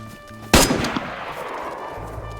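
A single loud in-game gunshot from DayZ cracks out sharply and close, its report decaying into a lingering rumble over the following two seconds, with no talk.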